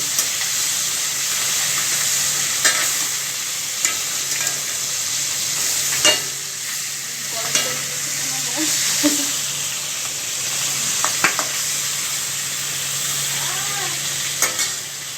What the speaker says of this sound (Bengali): এবার নাড়াচাড়া করব, এপিট ওপিট ভাবে আমরা নাড়ব।